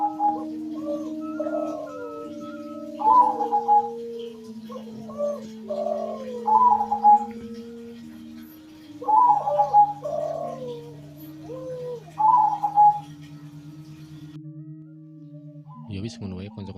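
A zebra dove (perkutut) coos in repeated rhythmic phrases, close and clear, over a steady low tonal drone.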